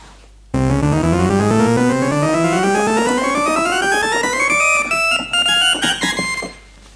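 A repaired 1964 Farfisa Combo Compact organ plays a bright, reedy rising run of notes that climbs steadily and then gives way to a few short stabs before fading, heard alone and close.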